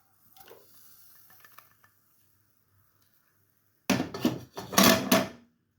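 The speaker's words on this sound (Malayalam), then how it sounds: "നല്ലതുപോലെ ഒന്ന് മിക്സ് ചെയ്യുക" A spoon scrapes and clatters in a pan as milk and ground cashew are stirred into a Japanese chicken curry. A few quick, close bursts of stirring follow a long near-silence.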